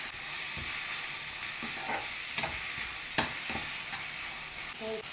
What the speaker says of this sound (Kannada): ಸ್ಲೋವಾಗಿ ಈ ಥರ ಫ್ರೈ ಮಾಡ್ಕೊಳ್ಳೋಣ.